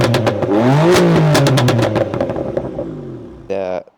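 A tuned BMW M3 with an aggressive aftermarket exhaust revs hard and close, its rising and falling engine note crackling with pops, then settling before a final short blip.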